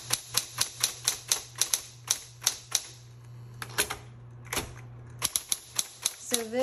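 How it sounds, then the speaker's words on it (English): A repainted 1960s Electra 120 typewriter is typed fast, giving a close, loud run of sharp key strikes in quick rhythm, broken by a short pause with shift-key clunks before the rapid clatter resumes. "when I start moving fast, I start shifting and releasing, shifting as I'm typing, and it's sloppy typing"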